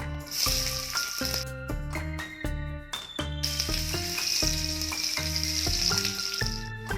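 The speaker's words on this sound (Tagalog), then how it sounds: "Ngayon magigisa na, maglagay ng mantika, bawang," Garlic sizzles in hot cooking oil in a steady, loud crackle as a sauté begins for a cabbage, cauliflower and pork dish, with tonal background music playing over the frying.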